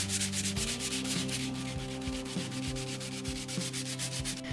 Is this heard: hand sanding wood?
yes